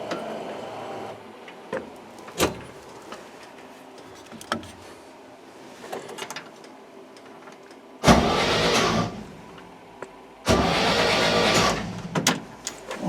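A car left unused for 30 years cranks over in two long bursts of about two seconds each, loud and close, after quieter clicks and taps.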